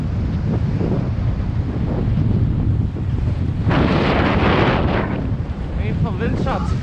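Strong wind buffets the microphone by the sea, a constant low roar with gusts swelling louder midway, and faint voices briefly audible near the end.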